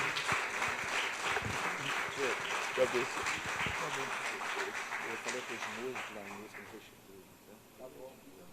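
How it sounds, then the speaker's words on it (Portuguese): A church congregation applauds at a Sunday morning service, sustained clapping that fills the room and then thins out as a voice speaks over it and carries on after the clapping fades. "Eu queria que cada membro da igreja pudesse agraciá-lo com uma calorosa salva de palmas"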